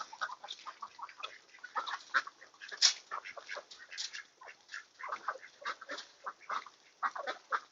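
Farm ducks quack in a busy, overlapping chorus, with short nasal calls tumbling over one another at a moderate distance and no voices.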